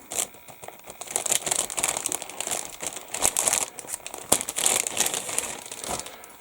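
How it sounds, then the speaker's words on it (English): Plastic model kit bag for a Meng 1/35 M4A3 Sherman crinkling as its back end is cut open, close and continuous with sharp crackles and rustles over about six seconds. "cut the back end off the bag"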